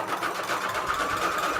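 A sewing machine stitches through paper pages for a junk journal, without backstitching. Its rapid, steady mechanical chatter runs close and loud for the whole short stretch.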